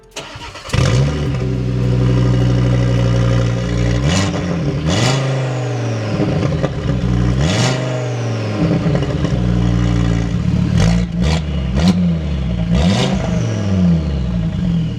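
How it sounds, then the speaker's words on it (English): An Audi RS3 engine revs hard and repeatedly with the exhaust removed, an open, raw note, loud and close, surging and falling in several bursts. "let's see how loud it is with pretty much no exhaust"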